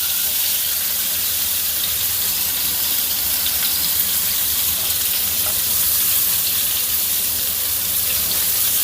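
Stuffed bitter melon, sealed with flour, pan-fries in a steady, dense sizzle that stays loud and even throughout, close up with no talking.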